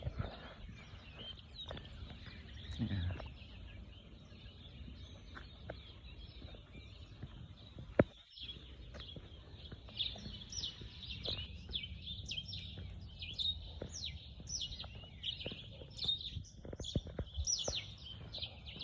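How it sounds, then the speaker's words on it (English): Birds chirp and tweet repeatedly at a distance at sunrise in a quiet outdoor setting, with a single sharp knock partway through. "hearing so many birds"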